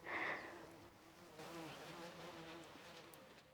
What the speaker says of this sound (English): Bees seem to like that one.